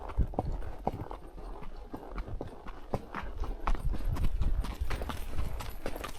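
Horses named Clyde and Riata walk on an evening trail ride at City of Rocks, Idaho, their hooves clopping close and steady in an even rhythm with faint outdoor ambience.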